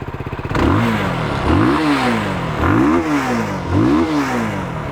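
Benelli TRK 251 motorcycle engine starting up, then revved four times in a regular rhythm, each blip climbing and falling back, close and loud.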